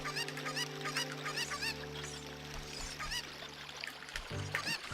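Chickens clucking and squawking in Zelda: Ocarina of Time, several short bird calls in bursts over steady game music, fairly close.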